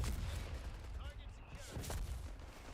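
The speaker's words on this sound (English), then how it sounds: "And Captain Dan is using his off-map artillery." Off-map artillery fire in Company of Heroes 3, a rumble of distant explosions and gunfire running steadily through the whole stretch, with a caster's voice talking over it.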